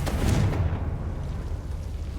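A Confringo spell blast in Hogwarts Legacy lands as a single loud, dull boom at the start that rumbles and fades over the following two seconds.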